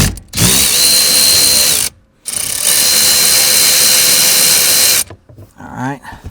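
A power tool loosens a steering rack bolt during rack and pinion work: a loud, close, high whirring buzz that runs in two long bursts with a short break between them, then stops and a few clanks follow.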